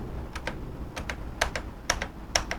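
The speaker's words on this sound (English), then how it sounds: "Damn, it's hard to stop with the keyboard." Computer keyboard keys pressed while steering in a VR driving game on an Oculus Rift CV1, heard as sharp, separate clicks in short uneven bursts over a low steady background hum.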